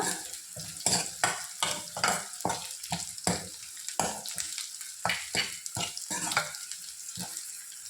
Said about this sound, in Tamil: வாதநாராயண இலை வந்து 1 கப் போட்டிருக்கேன். கொஞ்சம் எண்ணெயில் வதக்கிக்கோங்க.